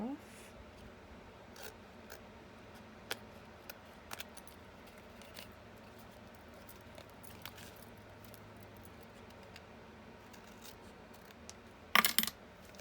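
Scissors trimming a paper card for a snow globe craft, soft snips and paper rustles through a quiet room, ending in a louder burst of cutting near the close.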